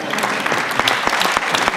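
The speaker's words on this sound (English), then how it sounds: "You can applaud." Audience applause at a campaign town hall in New York City, a short spell of scattered clapping with a few sharp, distinct claps standing out close by.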